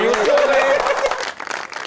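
Audience applause at a Pakistani stage comedy show, a dense wash of clapping that runs loud throughout and thins toward the end, with a voice speaking over it.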